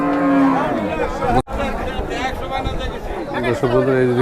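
Cattle low loudly amid the chatter of a crowd at a cattle market in Hazratpur, with people talking throughout in a busy outdoor setting.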